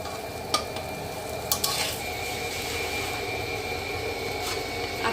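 Rice for plain pulao is stirred and fried in a pot, giving a continuous close sizzle with several sharp scrapes and clinks of the spoon against the pot.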